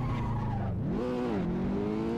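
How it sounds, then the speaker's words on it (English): Car in the Assetto Corsa racing game accelerating toward 120 mph with rear wings on, its engine droning and shifting pitch while tires squeal in a continuous skid. "Drive the car all the way up to 120 miles an hour."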